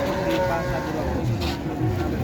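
A large Limousin-type cow at a livestock market moos in a low, drawn-out call, with people talking over it and market noise around.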